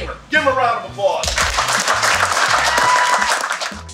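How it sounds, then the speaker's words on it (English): Football players at a rookie minicamp applaud a Hall of Famer, a burst of many hands clapping that starts after a brief spoken phrase and continues loudly and steadily to the end. "Give him a round of applause."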